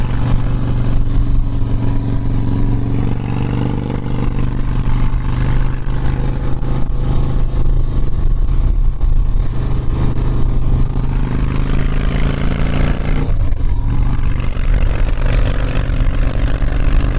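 A 2005 Harley-Davidson Softail Springer Classic is ridden, its engine droning loud and steady up close with shifting throttle on winding roads, mixed with continuous wind rush and no talking.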